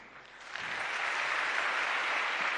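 An audience applauds for the First Lady at a ceremony, the clapping swelling quickly from a quiet start into a steady, dense patter that holds to the end.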